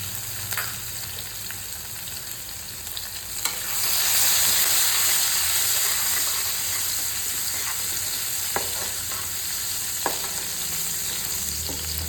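Green chili and ginger sizzle and fry in hot oil in a kadai, already tempered with asafoetida and curry leaves, a steady close hiss that swells louder midway with a few sharp crackles and stirring clinks.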